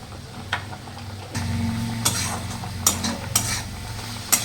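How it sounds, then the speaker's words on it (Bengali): Spices and meat masala being stir-fried for chicken kosha, a low sizzle and hum with several crisp scraping strokes of a spatula against the pan, close by. "মশলাটা কষে নেবো, হালকা কষে নেবো"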